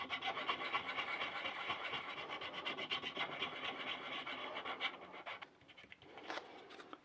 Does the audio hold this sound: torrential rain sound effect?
no